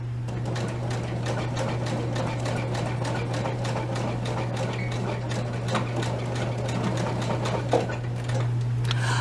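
Sewing machine stitching across a formal wear zipper, a fast steady mechanical chatter with a constant motor hum underneath, close and uninterrupted for several seconds.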